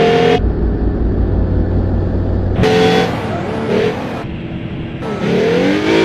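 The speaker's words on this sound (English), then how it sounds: "Ford GT40." A Ford GT40 in BeamNG.drive drives past buses, with a loud, close engine roar and revving, cut into abrupt segments with shifting pitch and a brief horn-like tone.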